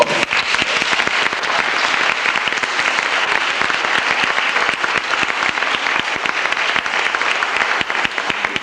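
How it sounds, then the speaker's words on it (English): Steady, dense applause from a drama school audience in 1996, many hands clapping continuously at an even level for the whole stretch with no talk. "Big round of applause."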